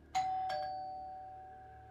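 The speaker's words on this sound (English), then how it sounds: "I hate when people keep ringing the doorbell." A two-tone electronic doorbell chime rings once, ding then dong, with a long fading tone in a quiet room.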